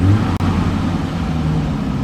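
A car engine hums steadily and close, a low, continuous drone with slight rises as the throttle is barely tapped, fitted with an iDRIVE throttle controller; no talking.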